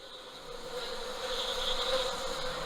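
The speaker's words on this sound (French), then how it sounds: "250 petits haut-parleurs qui reproduisent chacun le son d'une abeille" A dense, continuous buzzing of many bees played from 250 small loudspeakers in an art installation, layered into a steady drone that swells slightly louder partway through, with no voices.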